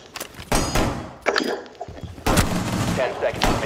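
Video game gunfire cracks out in several short, loud bursts with metallic clangs between them, close and sharp, with a player's voice mixed in.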